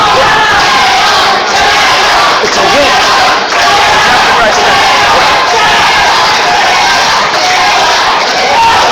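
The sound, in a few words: wrestling crowd cheering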